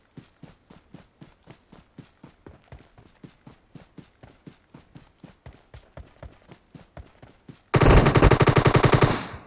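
Gunfire in the mobile battle royale PUBG Mobile: a long run of evenly spaced single shots, moderately loud, ending in a much louder, dense automatic burst up close.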